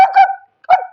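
A person imitates dogs barking, giving two short, harmonic bark-like yelps close up with a brief pause between them and no other sound.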